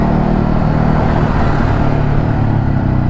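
A Ducati Hypermotard 950 RVE motorcycle being ridden, a loud, dense, continuous engine rumble with heavy wind buffeting close to the rider, steady throughout with no talk.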